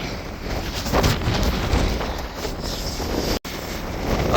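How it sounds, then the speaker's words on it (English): Headwind roars steadily against a mini bike rider on an open North Dakota road, a loud broadband rushing buffet on the microphone with one brief dropout near the end. "It's just facing wind"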